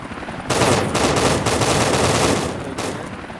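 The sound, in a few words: AI turret shooting at helicopter in Unreal Engine 5 game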